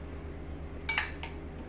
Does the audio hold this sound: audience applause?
no